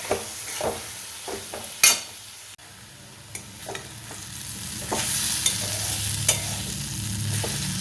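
Masala paste for paneer kofta frying in a pan with a steady sizzle, broken by scraping stirs and sharp clinks of the utensil against the pan, close and fairly quiet with no talk.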